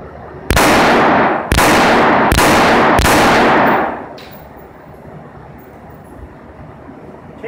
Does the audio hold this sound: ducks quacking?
no